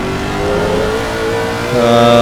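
GT3 racing cars, BMWs and a Lexus, in a sim racing game at Imola, a loud close engine drone rising in pitch as several cars accelerate together, with a second engine joining near the end.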